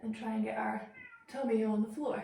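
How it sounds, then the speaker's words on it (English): Pet cats meowing and crying at a closed door to be let into a room, faint and under a woman giving exercise instructions. "I don't know if you can hear that, but my cats are crying to get in"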